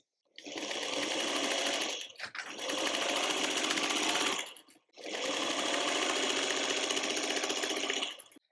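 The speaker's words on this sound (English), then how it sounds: "Then I'll take this to my sewing machine and I'm going to stitch a 1/4 inch on both sides of this line." A sewing machine stitches quarter-inch seams through quilt pieces for a tulip block, running in three long bursts of steady, rapid whirring separated by brief pauses, close and loud with no talking.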